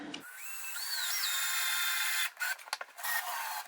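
A household electric drill spins up with a bright whining tone that rises in pitch, holds steady, then ends in a series of choppy stop-start bursts, close by with no voices.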